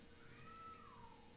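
A cat lets out a single drawn-out meow that rises and then falls, alone over a quiet room hum.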